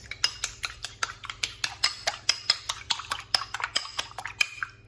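An egg whisked in a bowl with a utensil in a home kitchen gives rapid, rhythmic clinks and taps against the bowl, steady and fairly close, with no talking.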